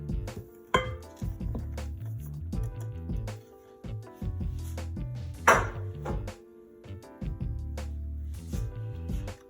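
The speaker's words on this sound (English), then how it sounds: "now I'm going to get my Vital Wheat gluten and put on top of it and mix that up." A spoon clinks and scrapes against a glass bowl while mixing vital wheat gluten for vegan steak, with irregular close taps and knocks throughout.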